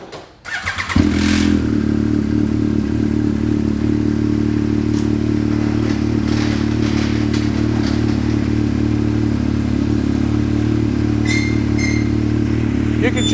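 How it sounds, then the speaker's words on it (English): A Yamaha YXZ side-by-side engine, fitted with a new radiator kit, starts and idles steadily to warm up, a loud, continuous close-up drone with occasional clatter. "we're gonna go ahead and get her starter up and let her run,"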